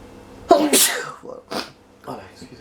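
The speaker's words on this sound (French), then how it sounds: "excusez-moi, j'ai éternué un peu" A man sneezes once sharply near the microphone, a burst of breathy noise followed by a couple of quieter gasps and rustles, heard while playing Elden Ring.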